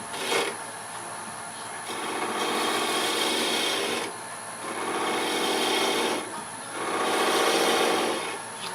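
Wood lathe spinning a small wooden bird house while a tool shapes it, a steady close scraping hiss in three long passes with short pauses between.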